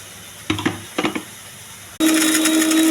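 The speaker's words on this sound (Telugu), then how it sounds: "మిక్సీ చేయాలి." A kitchen mixer grinder blending coconut and coriander chutney: two brief rattling bursts, then the motor kicks in with a loud, steady whirring drone.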